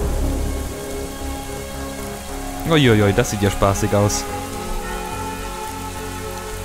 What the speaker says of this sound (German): Oh, jetzt regnet es auch noch.